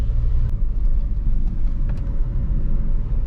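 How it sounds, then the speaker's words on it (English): Steady low rumble of a car driving on a steep mountain road in Kerala, heard from inside as the engine and road noise drone continuously with a few faint clicks. "this is a fun to drive car in these kind of ghat roads."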